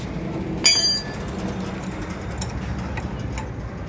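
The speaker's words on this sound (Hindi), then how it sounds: "तो चलो अब नाट को फाइनली हम लोग टाइट करेंगे।" Metal clinks from tightening the nut on the handle ball racer of a Yamaha motorbike: one sharp ringing clank near the start, then a few faint ticks over a steady low background hum.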